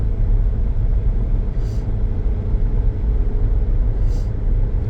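A 2010 Scion xB accelerates up a hill, its engine a steady, loud low rumble with continuous road and drivetrain noise filling the cabin throughout, no voices.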